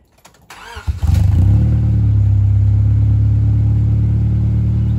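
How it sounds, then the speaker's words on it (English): A car with a newly mounted exhaust cranks and starts, then settles into a loud, steady, close-up idle with a deep even rumble, and no voices. "So we're going to take it for a test drive and see what it sounds like."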